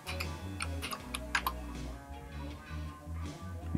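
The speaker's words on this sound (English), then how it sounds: "We type it LSUSB" Quick taps on a computer keyboard as a command is typed, a close run of light clicks in an uneven rhythm over a low steady hum.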